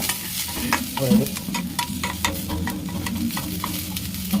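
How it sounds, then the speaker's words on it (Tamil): Tomatoes and tamarind sautéing in a pan for a fish curry with ground almonds, a close, steady sizzle broken by rhythmic scrapes and clicks of a spoon stirring the mixture, with no talk over it. "இப்போ தக்காளி போடுறோம் புளி தக்காளி போட்டு"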